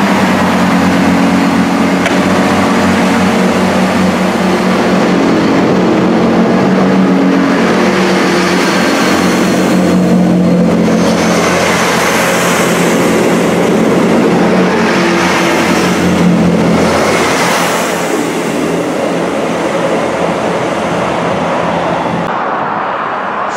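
A Class 158 diesel multiple unit, number 158820, passes through Telford Central station on a Holyhead service, its engine and wheel noise rising and swelling loudly and continuously for over twenty seconds before easing off.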